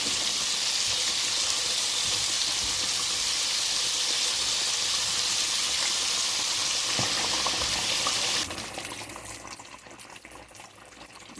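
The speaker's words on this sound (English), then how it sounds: "we're gonna go ahead and fry that fish" Sheepshead fish frying in hot oil gives a dense, steady sizzle up close for about eight seconds, then drops to a softer, quieter bubbling.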